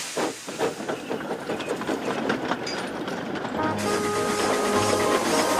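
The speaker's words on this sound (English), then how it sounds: "Percy steamed along with the milk churns even faster than he had before." Cartoon steam locomotive puffing and hissing as it hauls milk churns, a steady chugging rhythm under a continuous broad hiss that swells louder near the end, with a whistle-like tone joining in.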